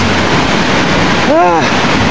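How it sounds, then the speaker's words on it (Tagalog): The strong current of a river at Kipot Falls pours in a loud, steady roar of rushing water that fills the whole moment, with a brief tonal, voice-like sound rising over it near the middle. "Ilang napakalakas ang ilog"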